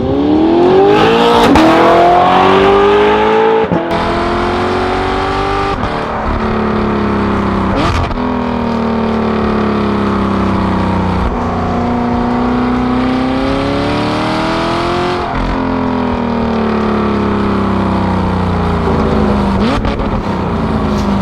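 An Audi R8 fitted with upgraded EBC brakes drives on the road, its engine droning loud and close, with revs rising and falling through gear changes over a steady run.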